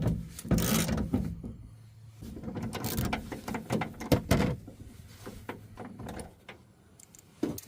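A ratchet with a 10mm deep socket works a window bolt inside a Chevy Cobalt door, giving faint close mechanical clicks and scraping in short irregular bursts with no voices.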